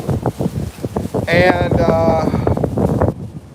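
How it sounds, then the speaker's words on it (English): Gusty wind buffets the microphone with a low rumble while a person talks close by. "Right now I'm getting some wind here. It's pretty windy."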